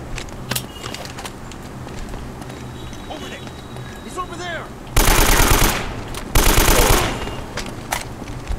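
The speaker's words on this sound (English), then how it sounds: "let me shoot him" Gunfire in Uncharted: Drake's Fortune Remastered, with scattered single shots among jungle ambience and birds, then two loud sustained automatic bursts; someone talks over parts of it.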